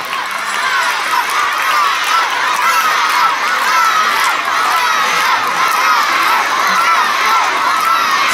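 A crowd of schoolchildren at a sports day in Banaganapalli cheering for the winning team, a loud, steady wall of shouts and whoops that never lets up.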